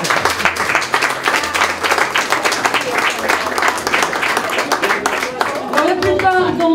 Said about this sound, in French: je propose qu'on commence par l'applaudir pour son anniversaire.